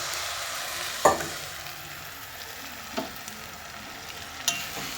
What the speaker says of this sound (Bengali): এই সব উপকরণগুলোকে দিয়ে ভালো করে আমি একটু কষিয়ে নিচ্ছি কিছুক্ষণের জন্য